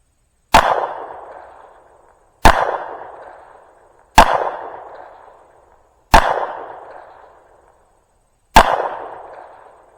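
Five single gunshots fired at a target on a shooting range, each a sharp close crack with a short decaying ring, evenly spaced about two seconds apart.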